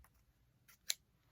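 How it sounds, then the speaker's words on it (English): A single crisp snip of scissors closing on paper, short and sharp against near silence, with a couple of fainter rustles before it. "we'll take scissors and we'll cut them."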